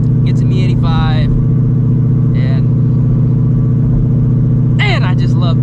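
A Shelby GT350 tuned to about 800 horsepower rumbles at a steady idle, a deep, loud, continuous drone close by, while someone talks in short bursts over it.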